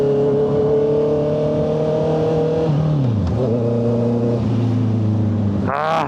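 A 2025 Honda CBR650R motorcycle fitted with an SC Project exhaust revs loud and close, its engine tone climbing steadily, dropping sharply, then climbing again before a final blip, with no talking.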